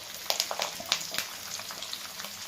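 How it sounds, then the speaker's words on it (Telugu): Onions fry in a pan with green chilli, curry leaves, cashews and asafoetida for masala fried rice, giving a soft, steady sizzle broken by small crackling pops. "ఆనియన్స్ వేగాయండి."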